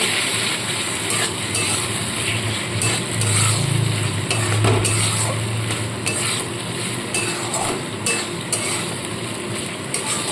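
Fish curry sautés in a pan with ground coriander leaf paste, giving a loud, dense sizzle broken up by repeated stirring scrapes and light metallic clinks throughout.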